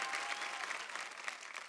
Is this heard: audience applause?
yes